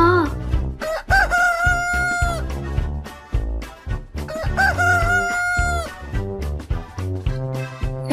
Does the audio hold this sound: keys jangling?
no